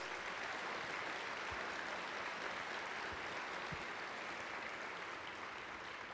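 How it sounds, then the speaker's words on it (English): An audience at a university open house applauds, producing a broad, steady wash of clapping that sounds fairly distant and soft, holding evenly for about six seconds with a few isolated thumps underneath. "Give them a round of applause."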